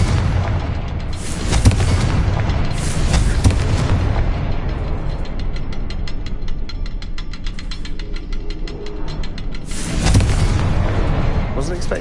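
Confringo spell explosions in the video game Hogwarts Legacy: loud, broadband booming blasts around two, three and ten seconds over continuous game rumble, with crackling debris between them.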